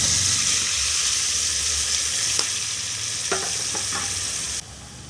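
Garlic sizzles loudly in a pan on a wood-fired chulha while cooking tur bean amti, a steady close frying hiss with a few light utensil clinks before it cuts off near the end.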